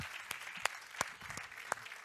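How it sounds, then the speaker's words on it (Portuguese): A church congregation claps in a sparse, uneven rhythm, a few distinct claps standing out over a soft, noisy background. "Aplauda o Senhor, aleluia."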